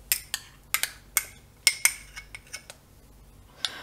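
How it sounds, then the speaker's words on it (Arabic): A spoon clinks repeatedly against a bowl while warm milk and melted chocolate are mixed into basbousa batter, with a dozen sharp, bright metallic taps at an irregular pace, close and fairly quiet with no talking. "ونخلط هاد المكونات مزيان مع بعضياتهم حتى كيندمجوا"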